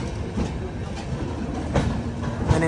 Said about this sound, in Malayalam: അങ്ങനെ ബിക്കാനീറിലേക്ക് ഇതാ നമ്മുടെ ട്രെയിൻ എത്തിയിരിക്കുകയാണ്